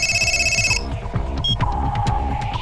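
A telephone rings with a shrill electronic trill that cuts off early, followed by low throbbing hum and clicks.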